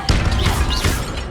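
Levioso spell cast in the video game Hogwarts Legacy, a loud magical whoosh with a sharp impact and rising shimmering tones, filling the short moment without talk.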